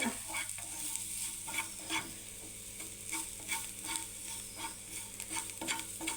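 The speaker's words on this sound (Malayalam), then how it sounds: "ഇത് വഴന്ന് വന്നിട്ടുണ്ട്." Chutney ingredients with tamarind sauté and sizzle in a pan, close and steady, with repeated scraping stirs of a spoon at a regular pace and no voices.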